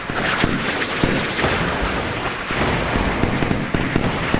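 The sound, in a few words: naval guns firing at Exocet missile in video game Sea Power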